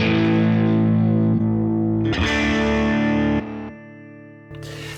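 An electric guitar played through a mid-gain amp model on a Headrush MX5 rings out in distorted chords that sustain and decay, then a brief new strum near the end.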